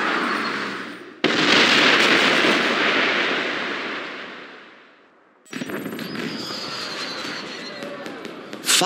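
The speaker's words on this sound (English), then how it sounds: "Did you know there were going to be fireworks?" Fireworks in the video game James Bond 007: Blood Stone go off in loud, crackling bursts, one long roaring blast that fades and then a sharp burst of popping crackle, all close and dense.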